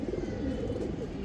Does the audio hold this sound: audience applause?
no